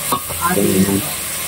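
Chicken pieces go into hot oil with a brief splash and stir, sizzling, then settling into a steady low fry.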